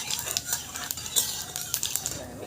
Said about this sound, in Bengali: তেলটা কিন্তু আমার গরম হয়ে গেছে, আর হাতে করে নেওয়া একটু জিরে ফোড়নে দিয়ে দেবো।